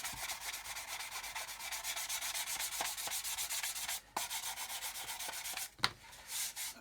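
Plastic is sanded by hand with 400 grit sandpaper in quick, even back-and-forth strokes. The rubbing is close and steady, with brief pauses between passes.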